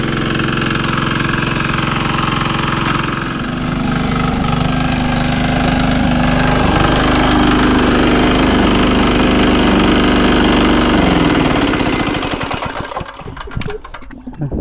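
A small Robin engine driving a water pump runs loud and steady with a rough, chattering drone, then sputters and falters near the end as it loses power.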